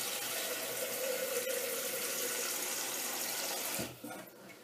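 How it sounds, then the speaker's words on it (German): 500 ml of water pours steadily into the bowl of a Thermomix TM31 kitchen machine, a close, even rush of liquid that stops abruptly near the end, with no talk over it. "Dann gebe ich in meinen Thermomix 500 Milliliter Wasser."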